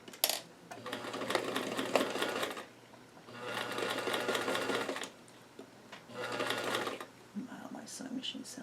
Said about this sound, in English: Sewing machine sounds horrible.